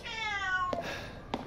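A cat in the video game Resident Evil 8 gives one drawn-out, tonal meow, followed by a couple of short clicks or thumps, fairly close and with no talking.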